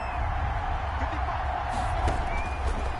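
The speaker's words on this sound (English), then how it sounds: "That just means this crowd's going to get even louder" Broadband stadium crowd roar from the Madden 21 American football video game, a steady, loud wash of noise that swells slightly with faint cheering throughout.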